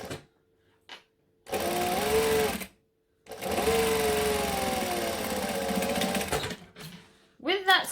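A sewing machine stitches a bag pocket shut in two bursts, a short run then a longer steady one, a close, loud whir with a rising and falling motor tone and brief pauses between.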